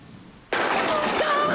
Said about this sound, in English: A little bit of thunder is nothing to worry about.